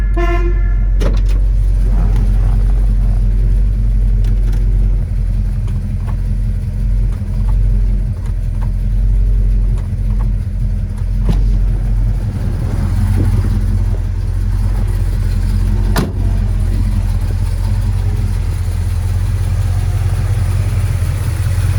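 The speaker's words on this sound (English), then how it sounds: "There's your 454 big block Chevy engine" A 454 big-block Chevrolet V8 in a 1971 Chevelle rumbles loudly and steadily, a deep throaty idle with occasional sharper blips and no voices.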